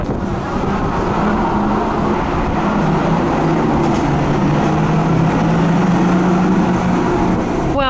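Go-karts on the racetrack of the Norwegian Bliss cruise ship keep up a steady buzzing engine drone with shifting pitch, heard at some distance with wind in the background.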